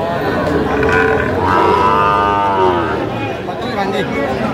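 A Sahiwal bull calf lows in a long drawn-out moo at a busy cattle market in Mymensingh, with crowd chatter and voices around it.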